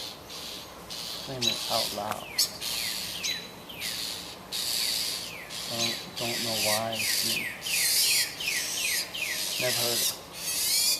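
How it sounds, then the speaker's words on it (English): A black bird chirps in a tree just outside a window, giving repeated short, sharp high chirps in quick bursts while a person talks nearby. "there's a bird chirping, a black bird in the tree there"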